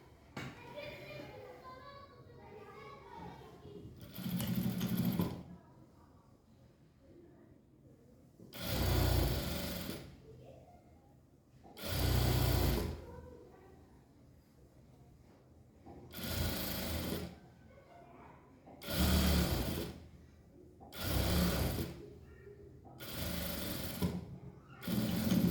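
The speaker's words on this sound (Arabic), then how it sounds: "وهنبدأ نخيط." Sewing machine stitching the sleeves of a Gulf-style abaya, heard as seven loud, separate bursts of running stitches spaced a few seconds apart, with brief talk at the start and quiet pauses between runs.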